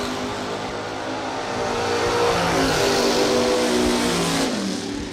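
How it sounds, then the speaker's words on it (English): Bracket racing car engine revving hard at a drag strip, a loud, sustained roar that climbs in pitch and holds steady near the end, with no voices. "Car sound good, Hank."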